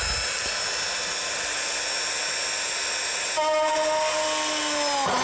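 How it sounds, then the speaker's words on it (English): A power drill whines steadily at high speed, then its pitch shifts and slowly drops as it bites into plastic and winds down near the end. "We're then obviously going to have to drill a couple of holes so we can screw this in place."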